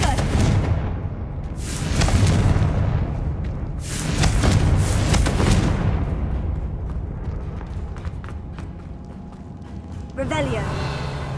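Repeated fiery spell blasts from Hogwarts Legacy, the Confringo fire spell, burst in heavy waves with booming low rumble, several explosions spread across the stretch and fading into lighter crackle near the end.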